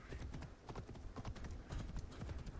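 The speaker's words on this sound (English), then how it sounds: "I would like to have my horse." Rhythmic clip-clop of a horse's hooves up close, galloping in Assassin's Creed Shadows, with a brief whinny mixed in and no talk over it.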